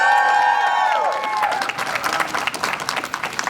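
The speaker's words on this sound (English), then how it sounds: "let's give them a big cheer, round of applause to a veteran." Rally crowd cheering and applauding for a veteran, a dense wash of clapping and shouts that rises after a sustained whistle or tone fades in the first second, then stays loud and steady.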